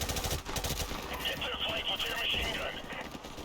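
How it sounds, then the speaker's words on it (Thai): Heavy machine gun fire in Call of Duty: Modern Warfare Remastered, a dense rapid rattle of shots with some louder cracks, running steadily under someone talking. "ยิงด้านข้างด้วยปืนกล แจ็คสันแต่ปืนกลหนัก"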